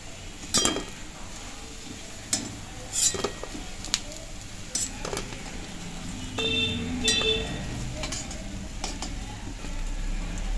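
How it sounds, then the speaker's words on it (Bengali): Fried urad dal fritters soured with tamarind being lifted from a hot pan with a metal utensil: scattered sharp clinks and scrapes against the pan over a soft, steady frying sizzle, close and moderately loud, no talking. "বড়াগুলো ভাজা হয়ে গেছে, তুলে নিচ্ছি"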